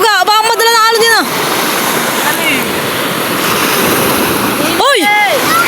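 Ocean waves at a beach during an evening meal by the shore, a continuous loud wash of surf, with excited voices calling out at the start and again near the end.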